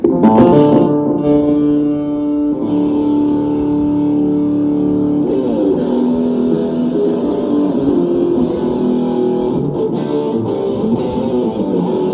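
Distorted electric guitar, a Yamaha Pacifica 112J, plays sustained, gritty chords that ring out with a slight echo, loud and steady, no voices.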